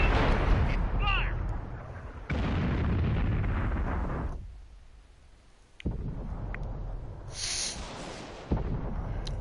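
A tank cannon fires in World of Tanks, producing sharp broadband booms near 2.3 and 5.8 seconds plus one around 8.5 seconds, over steady engine rumble, with a brief whistling tone early and speech at times.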